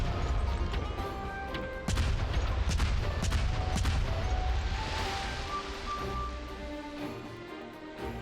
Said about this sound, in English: Drop some bombs.